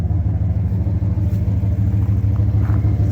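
A 1998 Dodge Ram 1500 pickup with a 318 5.2-liter Magnum V8 idles steadily, a low, even, pulsing rumble close by with no talk over it.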